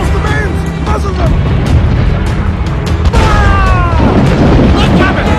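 Heavy ship cannon broadsides in Assassin's Creed IV Black Flag, a loud continuous battle din of booming blasts and crashes during a naval fight, with shouted commands over the top.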